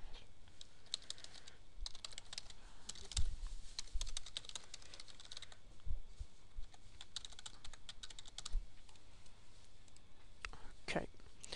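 Close, steady typing on a computer keyboard while writing an email, with quick irregular key clicks and short pauses, under soft whispered speech.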